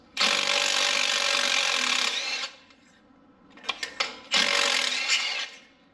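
A power tool breaking loose spark plugs on a Toyota buzzes in two loud sustained bursts, separated by a few quick clacks and rattles as it moves to the next plug; no talking.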